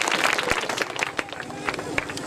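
An audience at a school education and culture ceremony claps loudly, a burst of scattered, uneven applause with sharp individual hand claps over a babble of voices.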